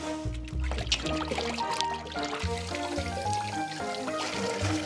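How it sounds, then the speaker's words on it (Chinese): Running tap water rinsing raw meat for a Chinese lion's head meatball recipe, a continuous splashing pour and trickle with shifting tone as the meat moves under the stream, close and fairly loud. "再把肉也洗一下。"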